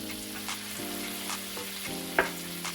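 Crab cakes fry in butter in a pan, a steady close sizzle with faint shifting tones and a couple of soft spatula taps, one sharper click near the end, no voices.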